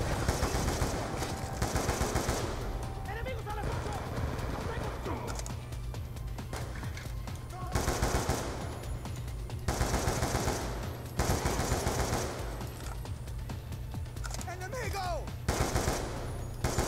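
Bursts of automatic gunfire in the video game Call of Duty Black Ops 2 come in repeated loud volleys with brief gaps between them, and a voice is heard talking in between.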